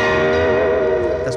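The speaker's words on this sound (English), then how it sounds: "Excuse me while I put the overdrive and the reverb where it belongs." Electric guitar played through Overloud TH3 amp software with overdrive and reverb, a sustained distorted chord ringing with a long reverberant tail, loud and close with no talk.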